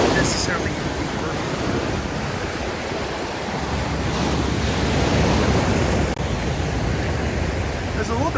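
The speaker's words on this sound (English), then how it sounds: "the waves get a little bit taller as you get further out" Ocean surf rolling onto the beach at Destin, Florida, a loud broad steady wash of breaking waves with wind buffeting the microphone, continuous for several seconds.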